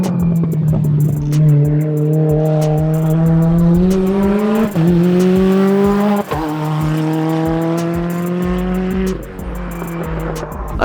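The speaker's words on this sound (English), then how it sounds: "In fact, the car's about to come right now." Rally car at a rally race passing close by, its loud engine note rising and falling through gear changes with tire noise, continuous and dominant throughout.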